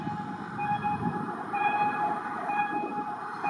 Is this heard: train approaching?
yes